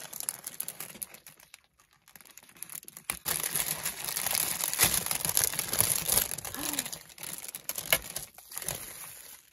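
Paper and bubble wrap crinkle and rustle as a large package is unwrapped, quiet at first and then busier and closer with dense crumpling and tearing, no voices.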